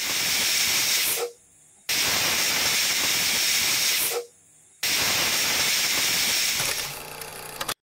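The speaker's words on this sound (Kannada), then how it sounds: "ನಾನು ಕುಕ್ಕರ್ ಲಿಡ್ನ ಕ್ಲೋಸ್ ಮಾಡಿ 3 ವಿಷಲ್ ಆಗಕ್ಕೆ" Pressure cooker of sprouted horse gram sambar venting loud, steady steam hiss in long bursts, broken by two brief silent gaps, close and without voices.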